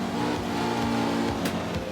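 A Porsche in a racing video game holds a steady, loud engine drone as it accelerates, with a faint squeal of tires near the end.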